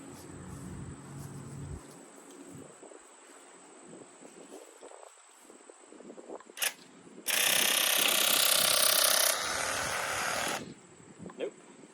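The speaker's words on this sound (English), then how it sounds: "So we're going to be spraying horizontal again." Bauer 20V cordless airless paint sprayer from Harbor Freight, spraying a door horizontally, gives a loud steady hiss lasting about three seconds, preceded by quieter motor whirring and clicks, with faint background noise.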